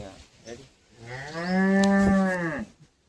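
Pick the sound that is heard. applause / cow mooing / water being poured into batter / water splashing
cow mooing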